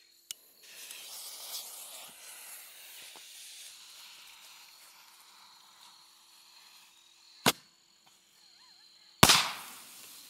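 Firework ball shell lit outdoors, a long fizzing hiss of the fuse followed by a sharp crack and then a loud, bright burst near the end.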